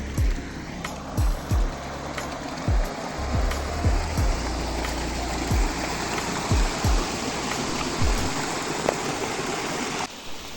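A river flows under small footbridges in a park, a steady close rushing-water hiss, while footsteps thud rhythmically across the wooden planks.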